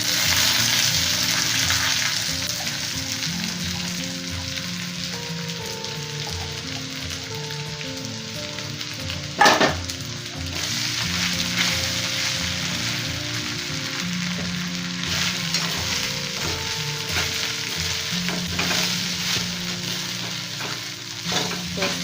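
Sabudana added to fried potato in a hot pan, sizzling and frying steadily with repeated stirring scrapes, close and continuous, with one sharp clank partway through.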